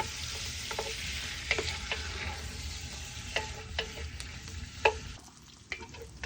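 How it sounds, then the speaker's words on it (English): Cut-up pork steak and smoked sausage brown in a pan with a steady close sizzle, punctuated by several sharp spatula scrapes and clicks as the meat is stirred. "a pound or so of pork steak cut up, smoked sausage. We're gonna brown that up."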